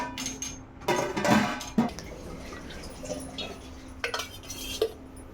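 A lid set on a pot of chicken biryani in a kitchen, with a few faint metallic clinks and knocks of cookware over a quiet background hum.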